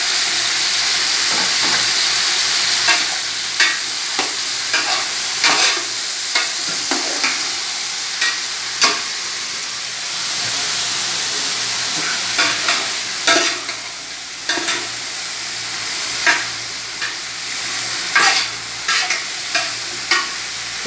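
Spoon stirring string beans and tomato in a pot of sinigang na talakitok, a Filipino sour fish soup, with repeated scraping clicks over a steady bubbling hiss across the whole stretch, close and fairly loud, no talking.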